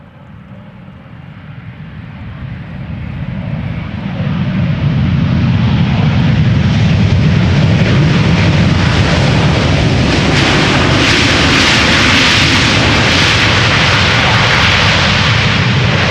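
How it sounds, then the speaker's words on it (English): A Delta Airlines Airbus A330neo jet arriving at Amsterdam Schiphol Airport from Salt Lake City swells from a distant whine into a loud, sustained roar of engines as it passes close by, with no voices. "This is Delta Airlines flight 56, arriving from Salt Lake City. It's an A330neo"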